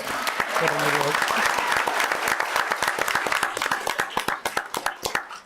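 A town council meeting breaks into applause, crisp close clapping from a modest crowd that runs steadily and then tapers into sparser individual claps at the end.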